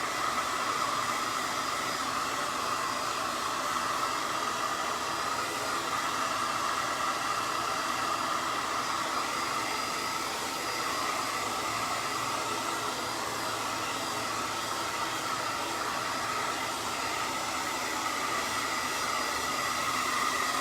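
A hair dryer blows steadily to dry paint on a bumblebee craft, a close, continuous airy whoosh that holds level for the whole stretch with no talking.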